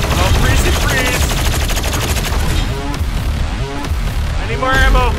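Rapid gunfire in Doom Eternal, dense bursts of repeated shots and impacts throughout, loud and close, with a voice speaking over the combat.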